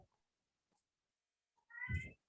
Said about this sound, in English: Your cats are very chatty. Yes, Bengals usually are.